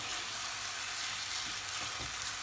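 Rice and orzo sautéing in butter in a pan, a steady close sizzle and crackle with faint stirring scrapes throughout.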